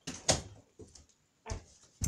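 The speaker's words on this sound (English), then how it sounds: "let me close my door" A few short knocks and thuds, like a door being pushed shut and latched, spaced out over a couple of seconds with quiet between.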